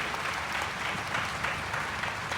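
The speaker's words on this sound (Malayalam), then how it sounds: "വിശ്വസിക്കുന്നവരൊന്ന് കൈയടിച്ച് ദൈവത്തിന് മാറ്റി കൊടുക്കുകയും" Sustained applause from a congregation at a Bible convention, a dense, even wash of many hands clapping together for a couple of seconds, moderately distant and without voices.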